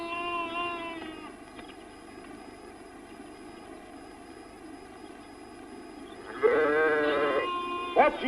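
Sheep bleat at a 1950s–60s livestock auction in a Thurlestone village setting, several wavering calls early on and a louder cluster of bleats near the end over a steady low hum.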